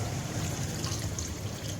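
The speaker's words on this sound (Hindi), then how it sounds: "अब हम इसके अंदर हाफ ग्लास पानी का ऐड करेंगे" Half a glass of water poured into a pan of frying chicken for chicken palak, a brief, steady rushing and sizzling wash of sound, close and without talk.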